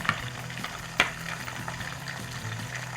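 Chopped garlic fries in a pan, with a steady soft sizzle and a few light clicks of a utensil against the pan, close and without talk.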